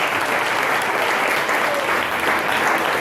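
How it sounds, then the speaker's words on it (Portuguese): Church congregation clapping together during a Portuguese-language Rosh Hashanah worship service, a dense, steady wash of applause filling the room without break. "A igreja dá uma glória a Deus, glorifica com palmas"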